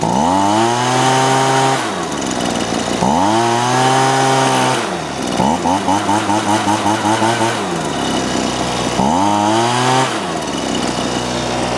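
A Husqvarna 125BV leaf blower with its impeller cover removed revs its two-stroke engine repeatedly from idle up to high throttle, giving loud, close whining bursts, with a rapid stuttering stretch partway through.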